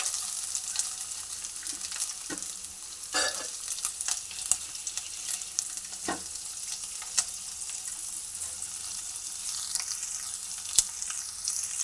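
Grated coconut frying in hot oil, a steady broadband sizzle running throughout with occasional scrapes and clicks of a utensil stirring the pan, fairly close and with no voices.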